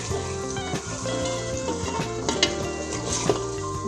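Masala for palak chicken roasting in a pan, a steady fry-sizzle with busy scraping and stirring strokes and occasional clinks of a utensil on the pan throughout, close and continuous with no talking.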